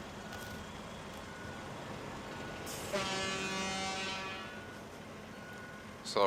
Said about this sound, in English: Celebratory honk that you're back on the road again.